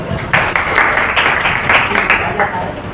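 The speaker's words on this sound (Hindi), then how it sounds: "सर के लिए ताली बजा" An audience claps for a man in a Hindi communication-skills talk, a steady wash of applause running underneath a speaking voice throughout.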